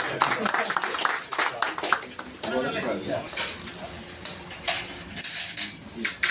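Scattered clapping from an audience, with clinking and background talk throughout.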